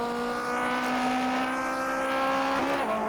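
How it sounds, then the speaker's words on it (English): A 1950s Formula One car at full throttle in the rFactor 2 racing game, a loud, sustained, steady engine drone with a slight pitch shift near the end. "Then you're going flat out, pedal to the metal."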